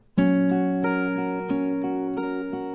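Acoustic guitar fingerpicking a song: notes ring out in a steady pattern, each pluck sharp and close, letting the strings sustain and overlap with no voices.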